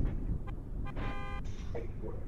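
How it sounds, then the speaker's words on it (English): A car horn honks in a Roblox game, one sustained toot lasting about half a second after a few short blips, heard over steady background game noise. "What is this kid honking at us?"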